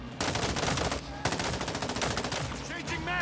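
Automatic gunfire rattles in Modern Warfare 3 Zombies, with loud, rapid bursts of machine-gun shots broken by a short pause and followed by more firing and a whizzing effect.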